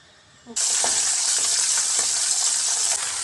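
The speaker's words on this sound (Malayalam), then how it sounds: "ചുമന്നുള്ളിയും വറ്റൽമുളകും കറിവേപ്പിലയും പിന്നെ ഒരിത്തിരി ഉലുവാപ്പൊടിയും ഇട്ട് താളിച്ചു വെച്ചു കൊടുക്കാം" Shallots, dried red chillies, curry leaves and a pinch of fenugreek powder hit hot oil for a tempering, bursting into a loud, sudden sizzle after a quiet moment that holds steady and crackling to the end.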